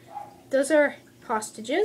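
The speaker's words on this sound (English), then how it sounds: "that is a dog barking outside." A dog barks outside, a few distinct yipping barks in quick pairs, heard indoors and moderately close, with a person talking over them.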